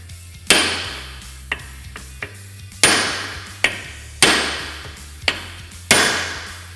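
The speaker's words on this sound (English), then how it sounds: "take a hammer, lay it on there like this, and then take another hammer and smack it" Sharp metallic hammer strikes ring out one at a time as one hammer is struck against another laid on a Can-Am Commander ball joint, about six loud blows with short ringing decays between them, over a low steady hum.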